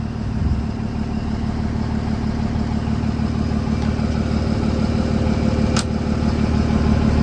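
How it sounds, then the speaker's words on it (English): A vehicle engine idling steadily after being jump-started from a JFEGWO F60 jump starter, a loud, close, continuous rumble with an even tone throughout. "Now that the vehicle's running, the alternator will kick in and start charging the batteries up."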